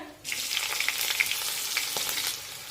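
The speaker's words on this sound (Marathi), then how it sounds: "इथे मी दोन ते तीन हिरव्या मिरच्या उभ्या कापून घेतलेल्या आहेत त्या टाकूया" Slit green chillies drop into hot oil in a pan already holding spluttering curry leaves, setting off a sudden loud, crackling sizzle that stays close and busy with small pops throughout.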